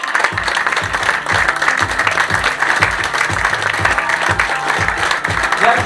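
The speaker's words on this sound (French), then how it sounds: "Mesdames et messieurs, on peut les applaudir fort." Loud audience applause at the final show at the Cinévox theatre, dense clapping filling the room throughout, with a steady low rhythmic thump running beneath like music, and some voices mixed in.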